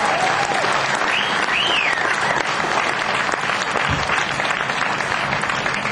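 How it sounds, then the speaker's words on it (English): Sustained audience applause at a nightclub event, dense and loud without pause, with faint voices mixed in underneath. "give him a round of applause for that."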